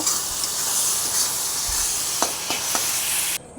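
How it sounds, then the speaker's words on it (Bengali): Continuous sizzling hiss of green beans frying in a hot pan, steady and fairly close, with a few faint clinks near the end. "এবার বিনসটা ভেজে নেব"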